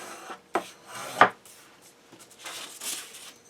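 Paper being torn along a fold with a handmade wooden knife, used as a letter opener, while preparing sheets for lino block printing: a few short scraping rips, with one sharp tear standing out amid soft rustling.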